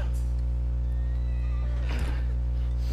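A horse in the video game Red Dead Redemption 2 whinnies once with a short, close, fairly loud neigh over a steady low game hum, with no talk.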